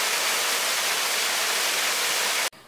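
A waterfall in a rocky stream valley roars as a dense, steady wash of broadband rushing water, loud and close, that stops abruptly at the very end.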